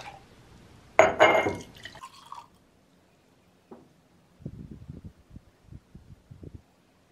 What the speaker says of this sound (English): we have drips over drips